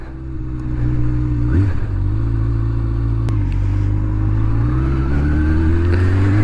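A motorcycle engine pulls away and keeps riding, its steady mid-pitched drone swelling as it gathers speed and revs climb near the end, close and loud with no talking.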